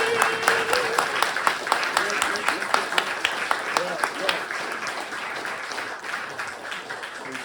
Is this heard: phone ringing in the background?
no